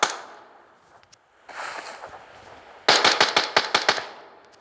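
Gunfire in a video game: a sharp opening shot and a couple of faint pops, then a muffled burst, and finally a rapid string of about ten loud automatic shots close by.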